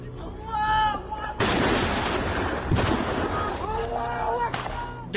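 Artillery fire and shooting in Ukraine rumble as sustained heavy blasts and crackling bursts, loud and continuous, with voices and tonal sounds layered over the barrage.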